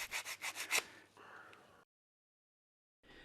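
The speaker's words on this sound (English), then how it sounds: "Then sand those surfaces too." Sandpaper rubs across wood cabinet surfaces in quick back-and-forth strokes, a rhythmic close scratching run of about five passes that fades, then silence.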